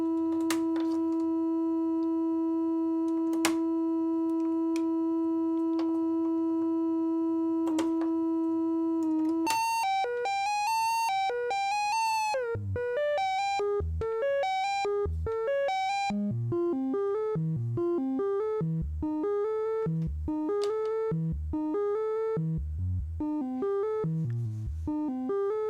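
A Doepfer Wasp filter self-oscillates: a steady pure tone with a few clicks, then sequenced synth notes leaping in quick stepping patterns over a low bass pulse, steady and moderately loud without voices.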